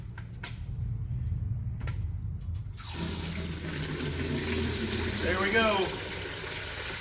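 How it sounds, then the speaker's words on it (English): Water from a repaired hose bib in a shop building gushes at full pressure into a bucket, a steady loud rushing splash starting abruptly after a low background hum, with a brief spoken comment. "Full water pressure into the bucket."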